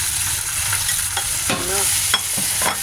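Ingredients, likely garlic and onion, go into not-too-hot cooking oil for a simple lettuce dish, producing a loud, continuous close sizzle with a few stirring scrapes.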